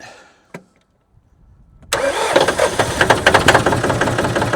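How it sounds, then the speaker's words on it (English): A car engine, with a jump pack connected to its battery, cranks briefly after a faint click and catches, then settles into a loud, close, steady running rumble with slight knocking pulses. "I got the jump pack on the battery. Let's give it a start."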